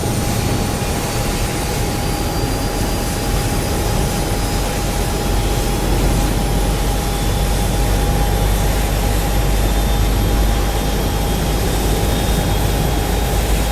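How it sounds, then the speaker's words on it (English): A Boeing 777 jet engine in a flight simulator game spools up in a steady, loud, continuous roar with a constant high whine and deep rumble, and no one speaks. "Starting the right engine."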